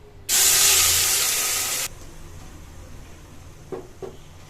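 A loud burst of sizzling hiss starts abruptly as masala is poured into hot oil, holds for about a second and a half, then cuts off, followed by a couple of soft clinks.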